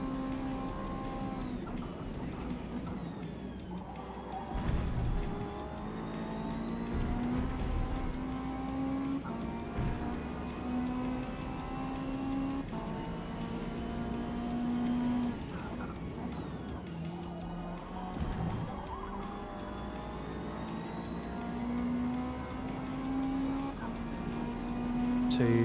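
Hyundai Elantra TCR race car in the Forza Motorsport video game, its engine droning steadily with rising and falling revs through gear changes, continuous and fairly loud throughout.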